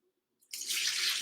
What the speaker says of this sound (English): This is just tap water into the pot, about 4 litres.